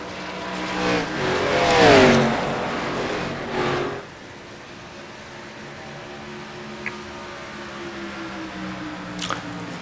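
Race car engines of the Tilson 200 Grand National Series roar and rev into turn 3, loudest early on and fading after about four seconds to a steady distant drone.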